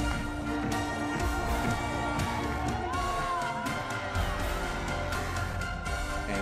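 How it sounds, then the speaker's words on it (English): A large golf crowd at the Solheim Cup in Spain cheers and whoops continuously, a dense roar of voices filling the whole stretch without pause. "For Europe, you've got the only Spaniard on the team, Carlota Segonda, getting the crowd fired up."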